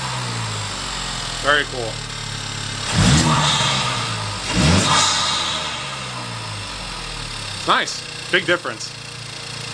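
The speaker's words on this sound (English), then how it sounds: "It's much louder. And you hear a lot of turbo now." A 2025 Acura Integra Type S turbo engine fitted with a downpipe and cold air intake revs loudly in several surges, with a sharp burst of blips near the end, while people talk over it.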